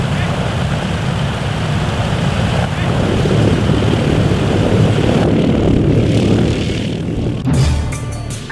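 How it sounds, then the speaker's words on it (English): Propeller engines of Allied bombers and transport planes drone loudly and continuously, a deep sustained rumble that holds steady before a brief shift near the end. "The mighty air armada of Allied bombers, transport planes and gliders took to the air above the south coast and flew in an endless stream to Normandy."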